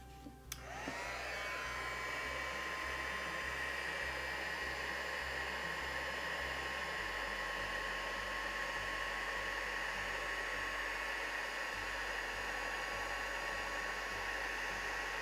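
Heat gun melting embossing powder on a mixed media journal cover, a loud steady blowing whine that switches on at the start and holds continuously, close to the microphone, with no talk.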